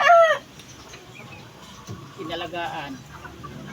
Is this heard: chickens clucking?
yes